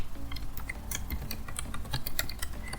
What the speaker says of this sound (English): I'm going to type the username here, my username, and I'm going to type the password right here